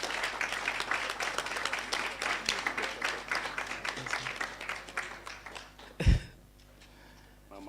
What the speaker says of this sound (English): Let's keep clapping, Mama J.